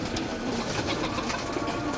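Domestic pigeons coo steadily while being fed, a continuous, close, dense murmur of overlapping calls with no pauses.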